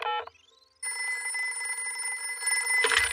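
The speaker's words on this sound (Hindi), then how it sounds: "सुनिए, हम दादा और दादी को फोन करते हैं।" A telephone rings in a Hindi-dubbed Peppa Pig cartoon: a steady, bright electronic ring that holds for about two seconds after a short tonal chirp, ending in a low thump, with no talk over it.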